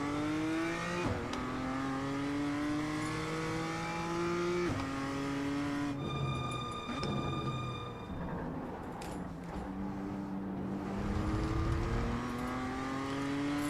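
Race car engine in the iRacing sim, not the Mazda, revving hard through repeated rising gear pulls with downshifts and brief tire squeal, loud and continuous throughout.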